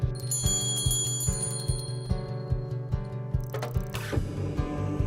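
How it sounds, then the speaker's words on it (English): A classroom bell rung by a teacher to begin a meditation quiet-time session, heard as a bright ring near the end, set against a steady rhythmic pulsing background, with no voices. "The teacher rings a bell, and that starts the quiet time session."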